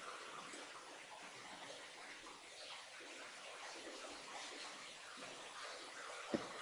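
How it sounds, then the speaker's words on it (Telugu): Water is poured steadily into a pot of rice for a fenugreek-leaf tomato rice dish. It makes a continuous soft splashing rush, faint and even, with a brief clink near the end. "4 కప్పులు వాటర్ వేసుకోండి."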